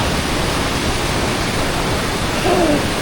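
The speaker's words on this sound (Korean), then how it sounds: "물소리 미쳤다" Broad, steady roar of rushing river water near Don Det island in southern Laos, loud and continuous throughout with no break, a couple of faint whistle-like tones appearing briefly near the end.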